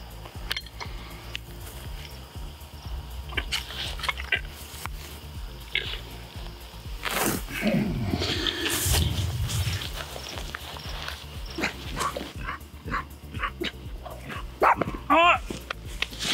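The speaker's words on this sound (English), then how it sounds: "Dog fight. I was focused on the dogs." Several dogs scuffle and fight, with bursts of loud, close barking and snarling amid rustling and thumping movement, and human voices break in now and then.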